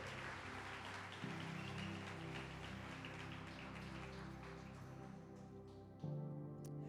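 A church congregation applauds during a Sunday service, a dense, steady patter of many hands like rain, fairly faint, over sustained low instrumental tones.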